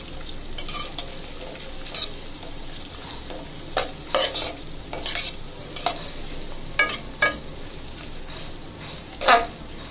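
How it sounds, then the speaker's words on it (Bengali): Onion, garlic and green chili frying in oil for a cabbage stir-fry, with a steady sizzle and repeated sharp stirring scrapes at irregular intervals, close by and without talk. "এদিকে আমি পাতাকপি ভাজি করার জন্য পেঁয়াজ, রসুন, কাঁচামরিচ তেলে ভেজে নিচ্ছি।"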